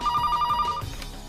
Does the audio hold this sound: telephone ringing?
yes